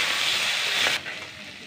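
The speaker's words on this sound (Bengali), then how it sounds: "আর কিছু সময়ের জন্য এটাকে খোলাভাবে আমি কষিয়ে নেব" Crab dopeyaja sautéing uncovered in a pan gives a loud, steady broadband sizzle that drops abruptly in level about a second in, then carries on as a softer, continuous frying hiss.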